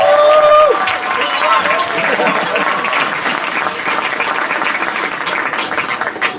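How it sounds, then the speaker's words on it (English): An audience at a school science night applauds loudly and steadily, dense clapping from a crowd close by that holds for several seconds. "let's give another big round of applause for our science night"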